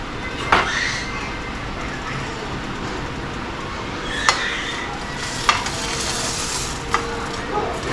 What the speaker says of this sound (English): we're gonna cook it normally like a regular grilled cheese